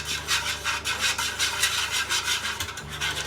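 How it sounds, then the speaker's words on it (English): An egg being whisked into buttermilk for a chicken burger batter, heard as a steady, close, rapid scraping and rubbing with a rhythmic pulse, running continuously with no talking. "we're just going to whisk the egg into the buttermilk now"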